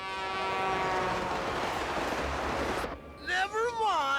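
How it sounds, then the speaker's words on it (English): Cartoon train approaching on the track, a loud rumbling run with a sustained horn tone that cuts off into a wavering whistle, voices talking over it. "Never mind, the choo-choo's on its way."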